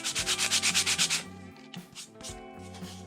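Cottonwood bark carving rubbed with 400 grit sandpaper: a quick run of about ten rhythmic scratchy strokes, close and distinct, then softer, scattered rubbing and light handling noises.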